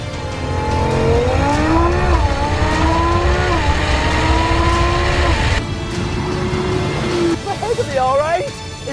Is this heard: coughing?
no